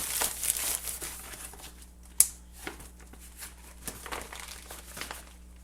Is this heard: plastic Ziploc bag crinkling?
yes